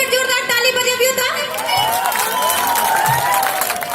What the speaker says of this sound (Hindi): तो कनी हमर पार्टी एक बेर जोरदार ताली बजाबियो त